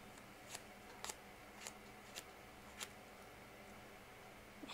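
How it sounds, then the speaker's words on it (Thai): Small scissors are drawn along ribbon to curl it for a ribbon penguin craft, giving sharp, quiet scraping snips spaced roughly every half second over faint room noise. "เสร็จแล้วก็ใช้กรรไกรค่ะอันเล็กรีด"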